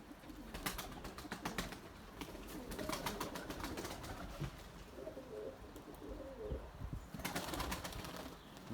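A pigeon that cannot get airborne flaps its wings outdoors in wind, giving scattered bursts of fluttering over a constant wash of wind noise, with faint bird sounds and no clear talk.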